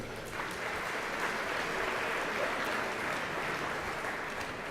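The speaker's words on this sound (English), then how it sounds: "So all of our judges, a big round of applause." Applause for the judges at an internet awards ceremony, a sustained, even roar of many hands clapping, heard somewhat distant and soft, without a break.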